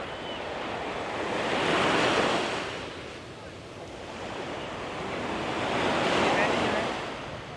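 Sea waves surging onto Bangsaen beach in Thailand, a steady broadband wash that swells twice and eases between, with wind buffeting the microphone and no talk.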